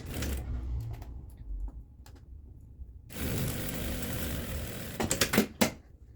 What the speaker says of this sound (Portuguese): Vou costurar com 1 centímetro também. Unindo aqui lateral com lateral.